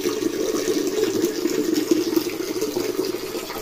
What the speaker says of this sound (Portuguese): estou pondo água aqui, deixar a água à vontade